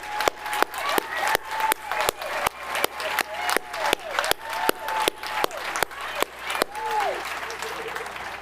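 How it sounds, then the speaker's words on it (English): At a university commencement ceremony, the audience applauds armed forces members standing in the crowd. Sharp, evenly spaced claps stand out over a broad bed of crowd applause, and some voices are heard through it. "please stand or raise your hand so we may applaud your commitment to our nation"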